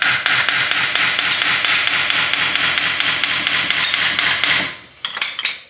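A hammer tapping out a wheel bearing on a Volkswagen/Audi MQB-platform car, struck in a steady run of about twenty close, sharp metallic blows, then a pause and a few last scattered knocks.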